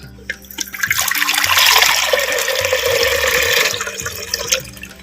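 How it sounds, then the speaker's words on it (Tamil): About a litre of water is poured into a clay pot for cooking lentils, a steady splashing gush that swells, holds for several seconds and tapers off, close and alone with no talk. "பருப்பு வேக வைக்கிறதுக்கு மண் சட்டி வச்சுக்கிறேன் தேவையான தண்ணி ஒரு லிட்டரு சேர்த்துக்கிறேன்"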